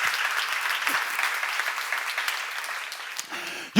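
A church seminar audience claps steadily in a dense, even wash of applause, fading slightly before a brief voice cuts in at the very end.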